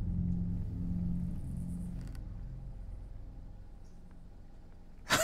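A car rumbles along at a steady, moderate level while being driven in the dungeon-crawler roguelite SULFUR, its low engine drone fading slightly before a sharp burst at the end.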